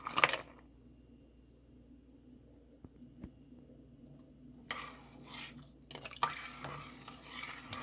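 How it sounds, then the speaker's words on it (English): Stirring broccoli into lentils in a cooking pot: a faint scrape at the start, then quiet clinks and a rougher burst of spoon-against-pot stirring near the end, all fairly soft. "Stirring this in the broccoli."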